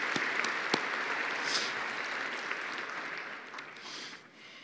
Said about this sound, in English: I'd ask you to join me in a round of applause to thank all of the people involved at the